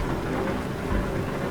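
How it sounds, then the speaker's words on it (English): Heavy rain rushes past a car driving on a highway with both windows open, a steady loud roar of wind and water with no voices. "I'm driving down the highway with both my windows open and the rain coming."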